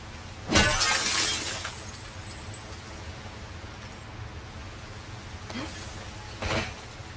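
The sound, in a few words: glass breaking in video game The Last of Us Part II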